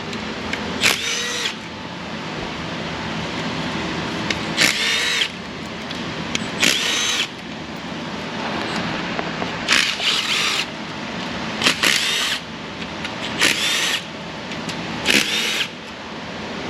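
A power drill spins out the engine front cover bolts during a camshaft swap teardown on a GM LS4 V8 with AFM/DOD, in short repeated whirring bursts over a steady shop background.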